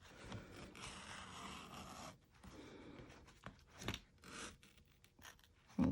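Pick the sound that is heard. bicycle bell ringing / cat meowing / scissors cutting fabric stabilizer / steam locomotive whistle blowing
scissors cutting fabric stabilizer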